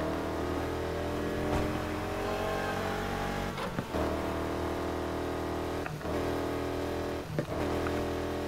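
A racing car engine in the video game Need for Speed Heat drones loud and steady, holding a sustained high rev with brief dips where the pitch drops and climbs back, as on gear shifts.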